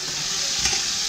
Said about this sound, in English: I'm frying them up in extra virgin olive oil with a little bit of MCT oil mixed in too.